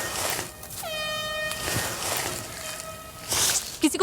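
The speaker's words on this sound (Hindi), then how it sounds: "हॉर्न बज रहा है" An air horn sounds outdoors in a forest during a team search game, two long steady blasts with a pause between them, loud and somewhat distant, over rustling ambient noise and faint voices.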